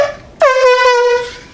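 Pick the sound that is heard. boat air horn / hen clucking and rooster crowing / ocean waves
boat air horn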